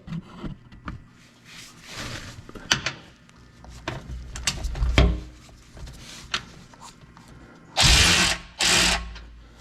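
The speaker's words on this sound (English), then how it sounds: "Okay, now we got the two bolts at the back loosened up." A hand ratchet loosens the rear skid plate bolts under a 2021 Nissan Titan Pro 4X, giving bursts of clicking and metallic knocks, ending with two louder ratcheting runs near the close.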